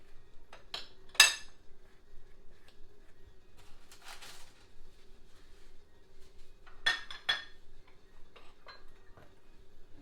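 A spoon clinks faintly now and then against a bowl as Christmas pudding mixture is stirred. The few light taps and scrapes are spread out over a near-silent background.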